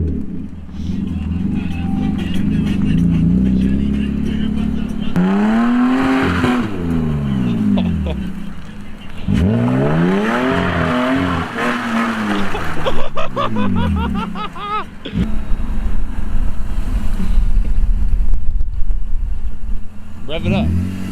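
A supercharged Cadillac CTS-V V1 exhaust revs loudly in repeated rising and falling bursts, its deep drone sweeping up and down, with voices and laughter around it.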